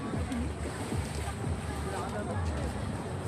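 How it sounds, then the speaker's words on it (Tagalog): Sea waves and wind at a seaside at sunset, a steady rushing wash of surf with wind buffeting the microphone, close and continuous. "dito ako sa dagat"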